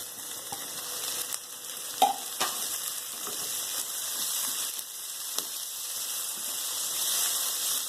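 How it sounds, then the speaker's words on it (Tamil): Tomatoes sautéing in a pan over a high flame give a steady, close sizzle and hiss, with a few light clicks and stirring scrapes now and then and no talk. "ஹை ஃப்ளேம்ல வச்சு வதக்கிக்கோங்க."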